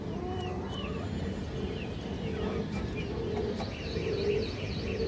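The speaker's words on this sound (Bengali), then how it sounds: "কবুতরের চোখ দেখলে আপনারা বুঝতে পারবেন দর্শক, এটা পিওর একটা গিরিবাস কবুতর।" A female Giribaz pigeon heard among other birds in a loft, soft cooing and chirps at moderate distance over a steady rustling background.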